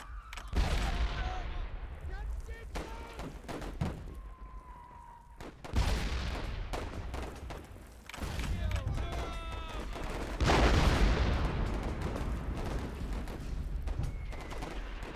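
Mortar rounds exploding in the Warfare 1917/1944 video game, with repeated booms and bursts of gunfire rolling through a dense battle soundscape, loud and continuous, with a voice talking over it.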